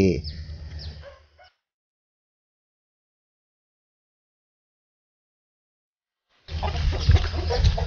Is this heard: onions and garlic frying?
no